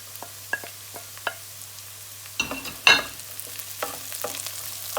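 Onion, garlic and ginger fry in a pan for keema aloo, with a quiet sizzle under a few scattered spoon scrapes and a louder burst of stirring clatter near the middle, all fairly close.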